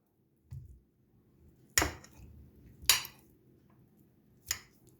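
A few sharp scraping clinks of a fork mashing boiled potatoes against a dish, spaced irregularly, close and fairly quiet.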